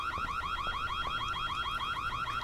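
An intruder alarm in the horror game White Day wails in a fast, repeating electronic warble, steady and insistent throughout, with no voices over it.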